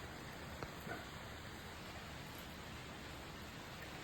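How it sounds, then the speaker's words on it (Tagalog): A constant, dense hiss of rain pours down, steady and even throughout with no pauses, heard from fairly close. "Lakas ng ulan."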